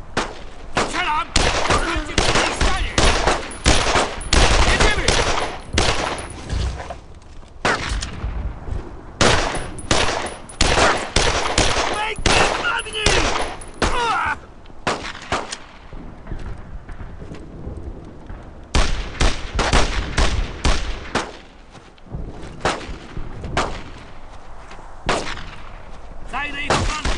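Dense bursts of gunfire and explosive blasts in the World War II shooter Brothers in Arms: Road to Hill 30, loud and close, come in rapid clusters with brief lulls between them.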